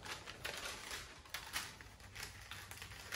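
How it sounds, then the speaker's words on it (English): Knife or blade cutting out a paint mask around a wing area for a model E-Flite 1.2m Corsair, giving faint, rapid scratchy ticks and scraping strokes over steady low background hum, with no voices. "We'll go ahead and cut this out."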